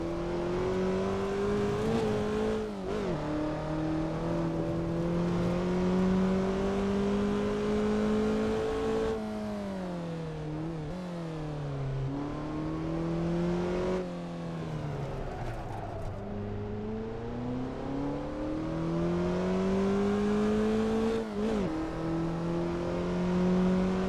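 Small cars driving in a racing simulator game at the LaSiSe test facility, a steady engine drone rising and falling in pitch as they accelerate and ease off, close and continuous with no talk.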